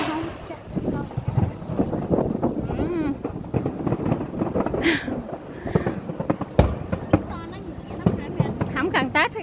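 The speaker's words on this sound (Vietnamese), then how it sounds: "Ở đây có giờ này có pháo bông coi luôn." Fireworks at the Cambodian king's coronation anniversary celebration, with scattered bangs and crackles heard outdoors amid wind noise on the microphone, while people talk throughout.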